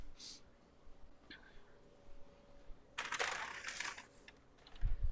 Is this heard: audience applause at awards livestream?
no